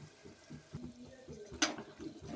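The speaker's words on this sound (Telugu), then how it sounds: "ఆలు అండ్ దోసకాయ ఫస్ట్ ముక్కలుగా కట్ చేసి పెట్టుకున్నాం కదా, వాటర్ వేసి కడిగేసుకుందాం" Water sloshes and splashes over cut potato and cucumber pieces as they are rinsed in a bowl, faint uneven swishes followed by one brief, sharper splash near the end.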